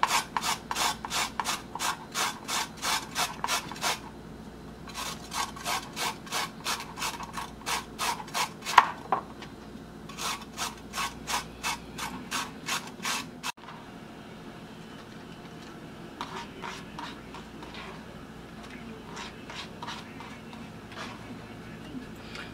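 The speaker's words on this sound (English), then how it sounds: "I'm just going to start grating the carrots." Carrots rubbed against a grater in quick rhythmic strokes, several bursts of steady rasping with short pauses between, close and clear, with softer scraping toward the end.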